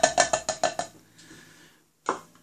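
Sugar is added to a glass bottle of tea for homemade kombucha, heard as six quick, evenly spaced clinks of a spoon against the glass, followed by a soft scrape and one more clink after a short pause.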